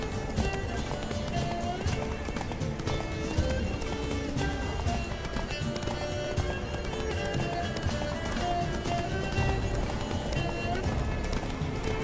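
Rapid hoofbeats of a galloping horse pound steadily throughout, with clattering rhythm and occasional neighs over a busy soundscape in The Witcher 3 video game.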